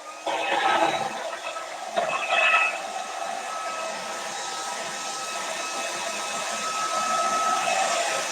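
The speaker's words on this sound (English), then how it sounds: "I am going to need to hit this with the hairdryer just a little bit because I don't want to smear it." A hair dryer blows steadily on a freshly stenciled, still-wet painted fabric pillow cover, a close, continuous whooshing roar that wavers briefly early on and then holds even to the end, with no talking.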